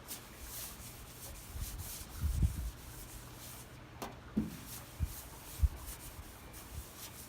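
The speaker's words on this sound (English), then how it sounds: "Just doing this by hand. Not using a polisher on it, just a little bit by hand." Liquid Turtle Wax gets worked by hand onto oxidized car paint, a faint, close cloth-on-surface rubbing with scattered soft scuffs and small knocks, and no polisher running.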